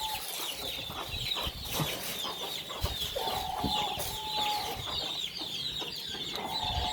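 Chickens cluck softly at a backyard farm pen, with repeated short calls and one drawn-out note over a steady rustling background at moderate distance.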